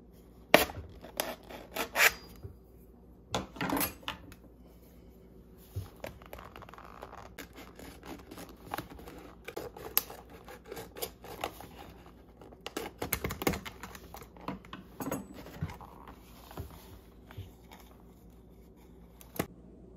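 A plastic Gatorade bottle holding soil being cut open, heard as irregular close snips, scrapes and crackles of plastic scattered across a quiet background.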